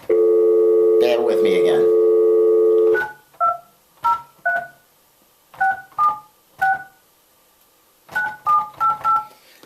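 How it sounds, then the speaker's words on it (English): Touch-tone dialing on a telephone as a call is placed: a steady dial tone first, then a quick run of separate keypad beeps in short bursts, with someone speaking briefly over the start. "I'll get him on the phone here"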